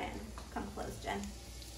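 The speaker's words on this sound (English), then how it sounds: "So you want to turn on your oven and kind of hear that sizzling first." Oil sizzling faintly in a hot pan before Brussels sprouts go in, a low steady hiss with a voice speaking softly over it.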